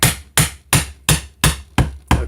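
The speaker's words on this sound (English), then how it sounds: "It's a brass hammer, so it absorbs a lot of the blow so you don't dent the fret." A brass hammer taps a guitar fret into place with seven sharp, evenly spaced metallic knocks, loud and close, with no talking.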